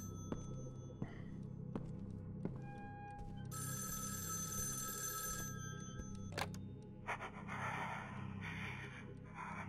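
A telephone rings in the horror video game Evil Inside, bright repeated electronic bursts over a low droning ambience with faint breaths and thumps, fairly quiet overall.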